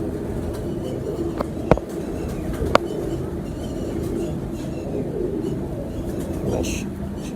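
Soft cooing of a flying pigeon runs under a noisy outdoor background, with a couple of sharp clicks, while voices are faintly audible.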